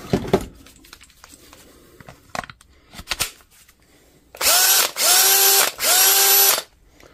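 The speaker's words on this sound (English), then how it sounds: "And we'll try her on a drill." A Milwaukee cordless drill, running on a repaired battery, spins up in three loud, steady bursts with a high whine, each separated by a brief pause, after some quiet handling clatter.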